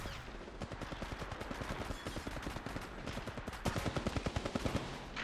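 Rapid, dense automatic gunfire from the video game Apex Legends, with continuous rattling bursts that grow louder and sharper toward the end.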